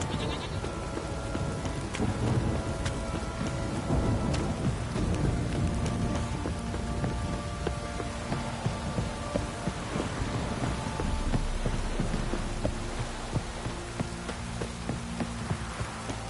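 Steady rain pours down in the game Witcher 3, a dense continuous hiss throughout, with animal bleats and a few faint tonal game sounds layered over it.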